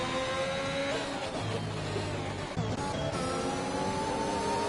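Race car engines in a racing video game at the Portimao circuit hold a continuous, fairly loud whine whose pitch shifts gradually as the cars accelerate and lift, with no talking over them.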